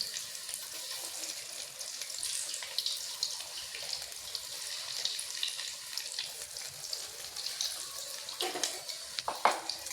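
Soybean chunks drop into hot oil in a wok and fry with a steady, fairly quiet sizzle and hiss, with a couple of sharper crackles near the end and no talking.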